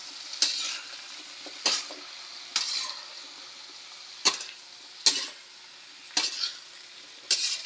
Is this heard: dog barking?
no